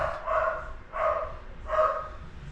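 A dog barks three times in a slow, evenly spaced rhythm, each bark a fairly close, moderately loud tonal yelp with brief quiet gaps between.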